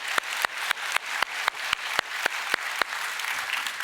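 A church congregation claps in unison, sharp regular beats about four per second, set against a continuous bed of crowd applause.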